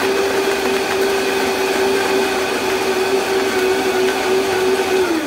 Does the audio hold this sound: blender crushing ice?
yes